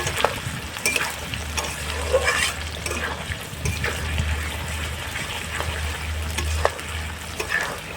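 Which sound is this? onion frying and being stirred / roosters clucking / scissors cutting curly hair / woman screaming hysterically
onion frying and being stirred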